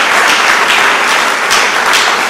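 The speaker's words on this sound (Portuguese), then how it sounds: "Dê uma salva de palmas." A church congregation claps in sustained, loud applause, a dense wash of hand claps with slight surges, no voices standing out.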